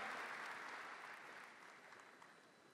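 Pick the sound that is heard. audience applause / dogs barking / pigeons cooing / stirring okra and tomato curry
audience applause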